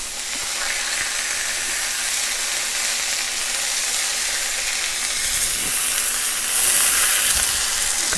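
A burger patty sizzles steadily in a hot pan after being flipped, a continuous broadband frying hiss that swells slightly louder toward the end, with no talking.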